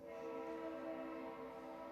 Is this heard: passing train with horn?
yes